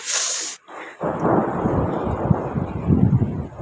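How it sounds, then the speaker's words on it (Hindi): A deep, rumbling roll of thunder during heavy rain and cold wind in a mountain village spreads across the low end after a brief hiss, sustained and fairly loud with wind-like noise over it. "ऊपर से थंडरिंग ऊपर से हो रही है, और लाइटनिंग भी हो रही है।"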